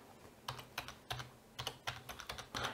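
Keystrokes on a computer keyboard while entering an MQTT subscribe command for an ESP8266 gateway: a quiet, irregular run of about nine close-up clicks in short bursts, with no talking.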